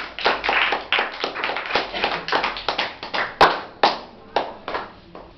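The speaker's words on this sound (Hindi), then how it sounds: "ताली बजाओ जरा जोर से।" Students in a classroom clap loudly in a quick burst of sharp, irregular hand claps, with scattered individual claps trailing off, close by and with some voices mixed in.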